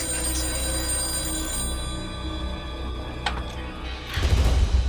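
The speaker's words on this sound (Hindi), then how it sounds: "अरे कब फोन बज रहा है, वो कौन उठाएगा?" A telephone rings steadily in a home scene from the Hindi TV comedy serial Mere Angne Mein, a continuous bell tone that holds for several seconds before a clatter and low thumps break in at the end.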